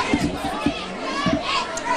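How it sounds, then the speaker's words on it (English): A crowd of junior high kids watches a football game, their overlapping chatter and shouts rising as a busy murmur in the stands. "That's a pretty fair little crowd there for a junior high game."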